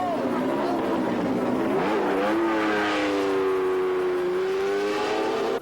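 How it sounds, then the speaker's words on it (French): A Porsche 911 race car at a 1996 endurance race, its engine loud and close, rising in pitch, dipping briefly, then revving back up and holding steady under a commentator's voice. "La Porsche 911 fait un très beau début de course."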